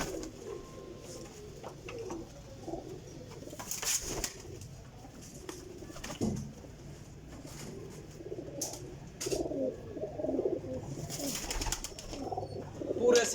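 Champion flying pigeons coo over and over, with soft, low, throaty calls at moderate distance over a busy background with occasional knocks and rustles.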